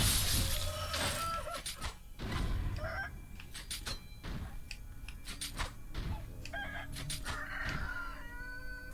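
A chicken in the game Sekiro clucks and crows in a misty village, sharp repeated calls over a steady eerie background ambience with scattered game effects.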